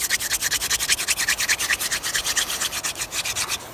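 A wooden hand drill spins rapidly against a fire board in a forest, giving a rhythmic, close scraping rub with quick back-and-forth strokes about five per second, steady and alone.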